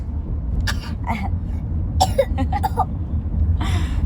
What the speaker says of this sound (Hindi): जानबूझ के खांसी मत करो।